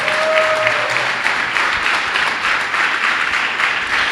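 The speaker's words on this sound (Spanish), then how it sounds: "Dale fuerte ese aplauso al Señor" A church congregation applauding during a sermon, a dense, loud, sustained wash of clapping filling the room, with a brief tonal voice or musical note near the start.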